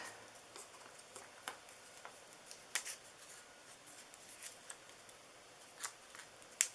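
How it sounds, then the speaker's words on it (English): Small scissors snip around a little paper leaf in light, quick cuts, close and crisp, an irregular series of sharp clicks over near-quiet. "I am going to fussy cut this little leaf really quickly"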